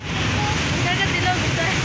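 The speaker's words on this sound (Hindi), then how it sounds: "पानी बहुत स्पीड में जा रहा है" Fast-flowing water in a canal at Mughal Pura, Lahore, rushing as a steady broadband wash with low rumble, close and continuous throughout, with faint voices beneath.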